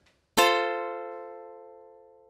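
A single ukulele chord strummed once with the middle string muted, ringing out alone and decaying slowly over about two seconds after a sharp, clean attack.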